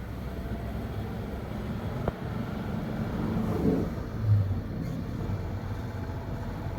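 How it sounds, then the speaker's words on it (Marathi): Inside a moving car with the windows shut, the engine and a ventilation fan make a steady low rumble and hum. A faint whoosh swells briefly, and no one speaks. "गाडीचा आवाज प्लस फॅनचा आवाज हे वाढत मला घालतोय."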